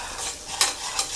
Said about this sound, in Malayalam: തീ കൂട്ടിയിട്ട് കുറച്ച് നേരം ഇളക്കിക്കൊണ്ടിരിക്കണം അങ്ങനെ